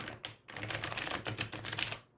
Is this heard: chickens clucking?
no